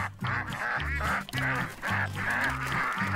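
Ducks on a farm give a run of loud, nasal quacks and honks in quick repeated bursts, close by and with no other sound around them. The call may come from a person imitating the ducks.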